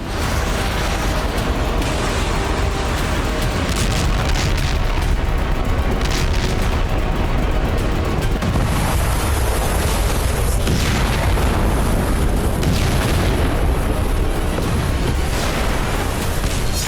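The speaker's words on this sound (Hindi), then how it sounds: "यह वीडियो भारत की उस स्वदेशी मिसाइल के सफल परीक्षण का है जिसे भारतीय सेना रुद्रम 2 कहती है।" Test of India's indigenous Rudram 2 missile, a loud, sustained rushing roar of the launch and blast that rumbles throughout without a break, with no talking.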